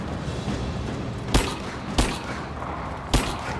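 Gunfire in the video game Rise of the Tomb Raider: three sharp, separate shots ring out over a dense, rumbling game soundscape, spaced irregularly about a second apart.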